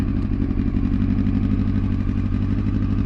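Honda Fireblade motorcycle engine running rough just after starting, firing on three cylinders, a steady uneven idle that stays loud and close for the whole stretch with no voices.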